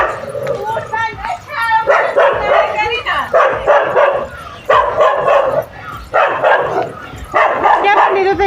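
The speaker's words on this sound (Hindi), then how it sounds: "उसका डॉगी लगातार भौंका जा रहा है" A dog barks and yips repeatedly in bursts at close range inside a home, the barking carrying on almost without pause.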